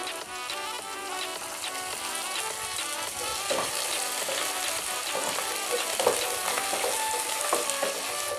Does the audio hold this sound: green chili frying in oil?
yes